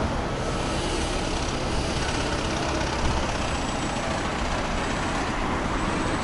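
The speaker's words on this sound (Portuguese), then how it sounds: "Aqui mais um autocarro" A London bus rolls past nearby, its engine a steady broadband rumble with road and traffic noise held at an even loudness throughout, no voices.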